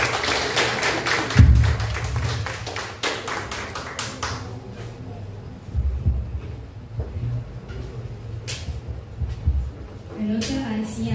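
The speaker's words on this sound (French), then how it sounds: "Sous vos applaudissements." Audience applause at a French-language reflection contest session, a burst of clapping in the opening seconds that thins into scattered claps and murmuring crowd noise before fading.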